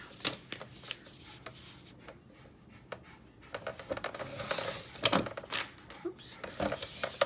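A 12x12 sheet of paper is cut in half: quiet, crisp rasping and slicing with scattered clicks and taps, while a person talks nearby.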